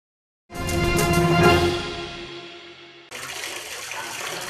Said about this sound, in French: tourner son robinet, voir et entendre l'écoulement de l'eau